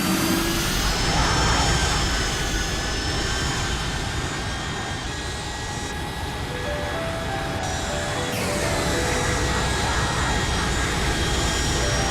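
Airliner jet engines in the X-Plane 12 flight simulator, Boeing 757-200 and 737 Max 8, a loud continuous roar and whine holding steady with a brief tonal shift midway, no talk.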